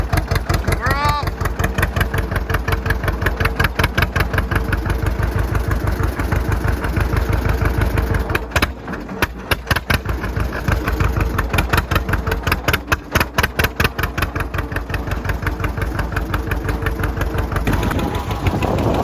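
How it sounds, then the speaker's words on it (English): A John Deere tractor engine runs steadily at a small-town tractor and car cruise night in Akron, NY, its close, loud, rhythmic idle-like chugging continuing throughout with a brief dip midway. "Tractor cruise night on our tractor."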